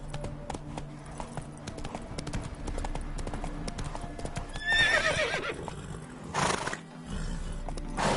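Roach the horse gallops in a video game, a fast rhythmic clip-clop of hooves close by, with a short neigh midway and a louder burst of movement near the end.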